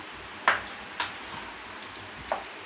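Spicy tomato thokku being stirred in a pan: a soft, steady sizzle carries three sharp spoon scrapes or clinks against the pan, spaced apart and fairly close.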